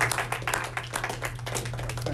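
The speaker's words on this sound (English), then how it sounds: "can we just say thank you to the Kunkles for making the visit today with an applause?" Applause at a school visit by a WW2 pilot, a short burst of loose, uneven hand clapping from a nearby group, busy and irregular with a low hum beneath.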